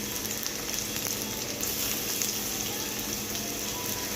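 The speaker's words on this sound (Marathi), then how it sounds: "तेल छान तापलं की त्याच्यामध्ये टाकायचा आपल्याला कांदा।" Onion frying in hot oil in a pan: a steady, dense sizzle with faint crackles, close and even throughout, with no voices.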